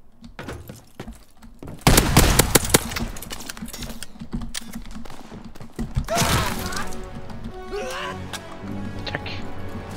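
Bursts of sharp, loud gunfire crackle in rapid clusters, with booming impacts and a trailing explosion-like rumble, mixed with game sounds and voices, in Call of Duty: WWII multiplayer.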